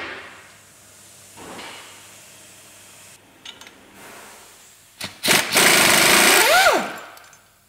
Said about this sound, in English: So you need a Torx 50 bit to remove these flywheel bolts.